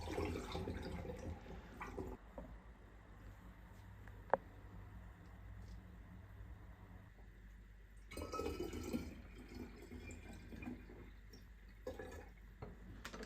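Plum liquid, the juice that drained from sugared plums through a colander, is poured into bottles for Polish plum nalewka, giving a soft, quiet trickle with gentle splashes that swells near the end.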